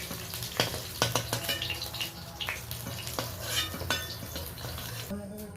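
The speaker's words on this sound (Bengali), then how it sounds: "আমি পটলটা ভেজে নিয়েছি কড়াইতে" Pointed gourds fry in oil in a wok with a low sizzle, while utensils clink and scrape against the pan in irregular knocks.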